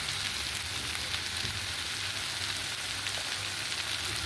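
Soy sauce poured over a chicken and Chinese noodle filling in a hot pan, producing a soft continuous sizzle and fry hiss at low level throughout, without any talk.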